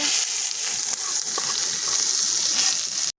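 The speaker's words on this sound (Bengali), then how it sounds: "এখন আমরা পেঁয়াজটা তেলে ভেজে নেবো" Onions fry in hot oil for an egg chicken roll: a steady, bright, hissing sizzle holds for about three seconds with faint ticks and crackles, then cuts off suddenly.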